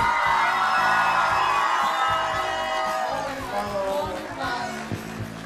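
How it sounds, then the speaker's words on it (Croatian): Audience crowd cheering and whooping for a newly engaged couple, Petra and Josip, on a stage at an engagement event; a loud, sustained mass of cheers and shouts with applause blended in, steady throughout. "Molim vas jedan veliki aplauz!"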